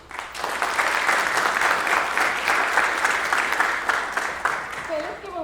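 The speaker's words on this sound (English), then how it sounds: "Okay, let's give him one more round of applause." Audience applause at an outstanding student awards ceremony honoring an EMT, dense steady clapping from a crowd filling the room, fading near the end as a voice begins.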